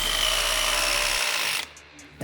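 A power drill drives screws into deck boards outdoors, a loud continuous whirring grind lasting over a second and a half, then cutting off abruptly into near quiet before a brief restart at the end.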